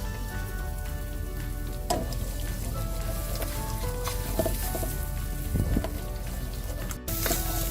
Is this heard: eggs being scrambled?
yes